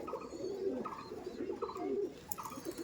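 High-flying giribaj pigeons give soft repeated cooing calls in a close, quiet setting, the low rolling coos coming in a loose rhythm with no talk.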